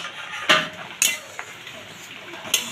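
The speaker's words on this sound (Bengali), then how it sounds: "তো দেখো তোমরা ঢাকনাটা নামাচ্ছি।" A metal lid is set onto a cooking pot during a radish recipe, giving a few sharp clinks and knocks spaced apart, close and moderately loud with no talk.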